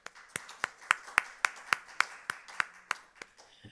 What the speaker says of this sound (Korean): 여러분 박수 한번 주셔야 돼요.